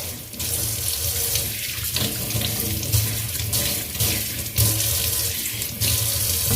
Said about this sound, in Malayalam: പൈപ്പ് അങ്ങോട്ട് ഓണാക്കിയിട്ടിട്ടുണ്ട്